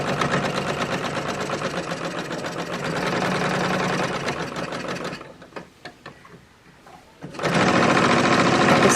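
A sewing machine stitches quickly across a quilt-as-you-go coaster, pauses briefly with faint handling sounds, then runs at speed again to back tack, loud and close.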